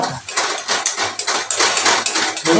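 A spoon scrapes and clatters against a pan while bottle gourd curry with bori lentil dumplings, green chilli, ginger and coriander is stirred, a steady run of close, busy metallic scraping with brief pauses.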